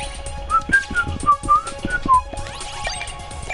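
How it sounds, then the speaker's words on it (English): A person whistles a series of short melodic notes from Mario game tunes, close and fairly loud, in a steady phrase for about two seconds before fading into quiet background noise. "And I'm whistling Mario songs now."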